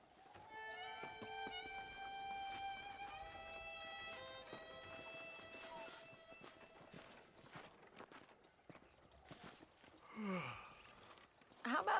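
In Red Dead Redemption, a horse's hooves thud in a steady galloping rhythm beneath soft sustained musical tones, growing louder toward the end with a snort or breathy sound.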